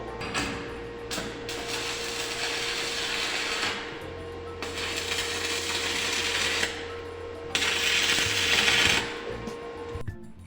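Arc welding lays beads of metal in the flat position, giving a crackling hiss in several long bursts separated by short pauses over a steady low electrical hum, with no talking.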